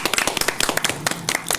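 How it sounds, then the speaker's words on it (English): An audience at a live podcast claps for a guest, a brisk patter of many hands in quick uneven bursts, close and lively. "Clap it up for Yola in the building."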